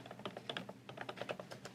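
Fingers tap quickly on a computer keyboard while entering figures into tax accounting software, producing a soft, fast, uneven patter of close key clicks with no voices.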